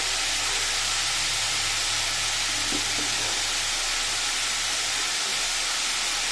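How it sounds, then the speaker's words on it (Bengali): Cabbage frying with a fish head in a pan, a steady moderate sizzle and hiss running throughout over a faint low hum, without speech. "এটা একটু ভেজে নিই"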